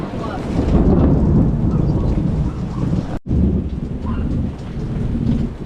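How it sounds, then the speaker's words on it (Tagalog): Heavy rain pours down steadily while thunder rumbles low and loud throughout, with a brief sharp dropout partway through. "May kulog at kidlat pa."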